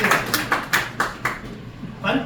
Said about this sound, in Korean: 여러분들 다시 한번 박수입니다